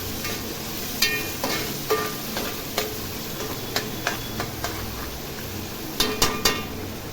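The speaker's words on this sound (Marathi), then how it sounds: "आता छान गोल्डन ब्राऊन होसपर्यंत आपल्याला हा कांदा ह्या तेलावर फ्राय करून घ्यायचा आहे" Chopped onions fry in oil with a continuous close sizzle, punctuated by several sharp metallic taps of a spoon against the pan, with no voices.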